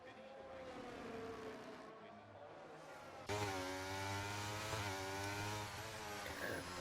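Race car engine on a hot lap at Catalunya in a racing video game: a continuous high whine rising and falling through gear changes, louder after a sudden jump midway, with a voice talking over it.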